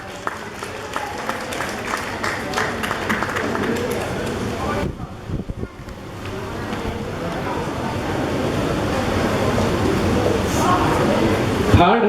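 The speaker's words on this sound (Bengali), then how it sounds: "সবাই জোরে হাততালি।" An audience at a Bengali New Year prize-giving ceremony claps in a sustained burst of applause, dipping briefly before swelling again, with a voice speaking at times over the clapping.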